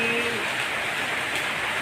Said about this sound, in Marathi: पाऊस चालू आहे आता सगळं